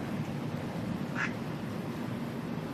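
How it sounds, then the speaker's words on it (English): Ducks give a short burst of quacks during a massive storm, heard briefly against a steady background of rain and low rumble. "The ducks obviously don't care about it right now."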